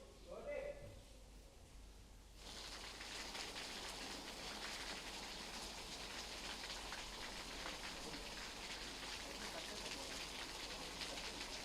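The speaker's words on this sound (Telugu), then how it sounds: "చాలా అర్లీగా వర్షాలు మొదలవుతున్నాయి, భారీ వర్షాలు పడుతున్నాయి" Heavy rain pours down in Hyderabad, a steady, dense hiss that starts abruptly after a couple of seconds and keeps going loud and even, with a few faint voices before it begins.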